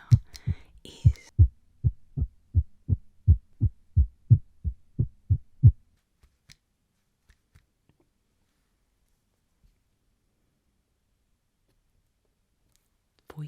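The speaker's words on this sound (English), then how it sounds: "Your own heartbeat." Heartbeat, a steady run of low double thumps lasting about six seconds, close and soft, then fading into near silence.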